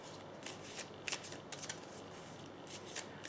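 Tarot cards are shuffled and drawn, soft papery riffles and slaps arriving in irregular bursts, close and fairly quiet, with no talk.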